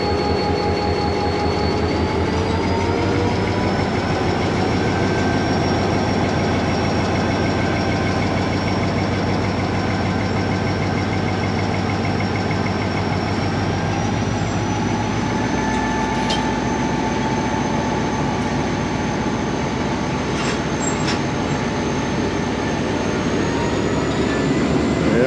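A diesel locomotive at Padidan railway station, just repaired after a fault, runs with a steady loud engine drone and sustained tonal whine as the driver raises the throttle notches, with faint clicks near the end.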